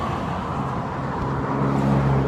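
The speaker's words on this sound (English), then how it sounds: "back to traffic, and it's loud as hell" Loud road traffic beside the Springwater Corridor trail forms a dense, continuous roar of passing cars that swells slightly toward the end, with no voices.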